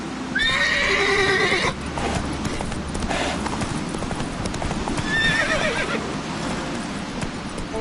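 Roach, the horse in The Witcher 3, clops along with steady hoofbeats while two loud whinnies ring out, one at the start and another midway, over a constant background game ambience.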